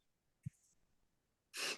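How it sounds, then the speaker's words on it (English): A single short sneeze-like burst: a quick intake then a sharp, breathy blast of air at the end, fairly quiet and close. "Someone sneezed. I thought somebody sneezed."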